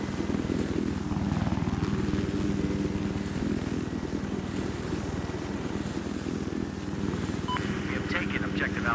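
In Battlefield 4 a helicopter drones with a steady rotor thrum throughout, loud and continuous, with a few faint game sounds near the end.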